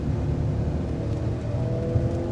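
A car with a motion control suspension system accelerates steadily over bumps on a ramp, producing a continuous engine drone and road rumble, close and even, with no voices.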